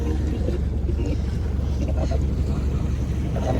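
A motor boat's engine drones steadily close by, a constant low rumble mixed with wind buffeting and splashing water, near Cagbalete Island.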